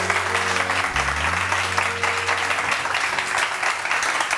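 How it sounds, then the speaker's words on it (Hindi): Loud, dense applause from a studio audience at a Pakistani morning show, with sustained clapping running steadily through the whole stretch over faint background tones. "आप लोग जोर जोर से तालियां बजाएं"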